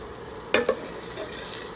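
Onion dropped into hot cooking oil for salmon sinigang sa miso, giving two quick sizzling bursts and a brief stir, then a low steady crackle with no talking.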